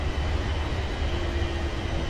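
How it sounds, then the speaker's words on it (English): A Class 380 electric train in Train Simulator 2 runs through snow, with a steady rumbling roll and a faint whining tone throughout, close and continuous without talk. "We've got 14 seconds to stop this train."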